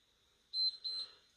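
A workout interval timer gives two short, high electronic beeps in quick succession, clear and close, with no talking around them.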